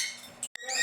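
A pet bird squawks up close in a few short, harsh, raspy calls, separated by a brief silent gap, with no talking.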